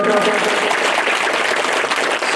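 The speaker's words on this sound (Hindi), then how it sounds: "जोरदार तालियों से स्वागत।" Loud, dense applause from a large crowd at a live Shrimad Bhagwat Katha religious gathering, steady and sustained throughout.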